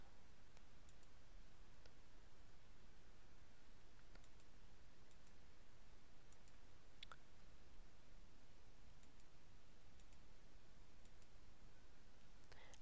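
Calculator buttons pressed to enter matrix values, a series of faint, sparse clicks spread irregularly over a low background hiss.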